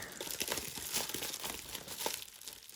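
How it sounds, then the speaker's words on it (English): Crinkling and tearing of sellotape on a sealed mail package being handled, a steady close rustle with several sharper rips spread across the moment. "So this has got a bit of sellotape on it. I might have to cut this actually."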